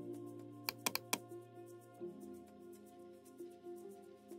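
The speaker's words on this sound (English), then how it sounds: "Type your text." A few quick keystroke clicks on a computer keyboard sound as text is typed into a website builder, a short burst of three or four taps over soft steady background music.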